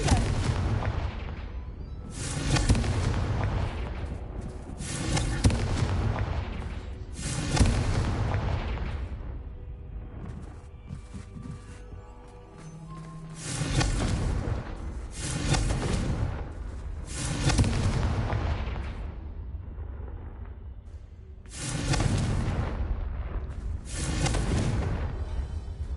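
Repeated fiery spell blasts from Confringo in Hogwarts Legacy, played on PS5: about eight loud, booming explosions arrive in clusters with short gaps, each a broad roaring burst that decays into rumble.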